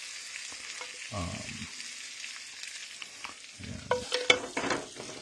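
Chicken fries in a pan for a sweet chicken and cauliflower curry, giving a faint sizzle close by. Short bursts of stirring and scraping come in around one second and again near the end.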